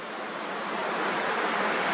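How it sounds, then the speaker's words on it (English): A broad, steady rush of sand and water gushes out of a ship, loud and continuous, with no voices. "Looks like we're just about at the end of the run for the sand coming out, the sand and water coming out there."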